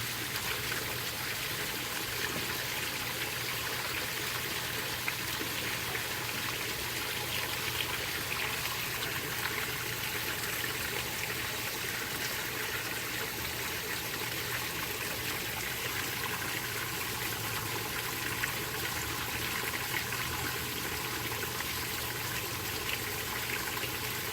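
Water pours steadily out of a 300 gallon tote in a constant, close, rushing flow with no break, and no voices are heard.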